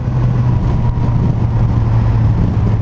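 A 2019 Suzuki GSX-S1000F motorcycle pulls hard in first gear, its engine a loud, steady, close-up drone with a strong low hum throughout and no speech.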